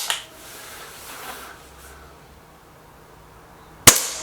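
Air rifle shot in a Gamo Whisper Sting versus SMK XS36 comparison, a single sharp crack near the end after an earlier fainter snap, close and loud against quiet background.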